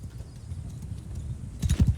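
Hooves of horses on the move in a Mount & Blade II Bannerlord battle, a soft rhythmic low thudding that swells into heavier, louder hoofbeats near the end.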